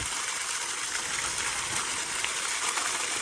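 Water flushes fast out of a roof water tank, a steady loud gushing rush that runs unbroken and close throughout.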